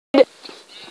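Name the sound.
sheep bleating in Minecraft video game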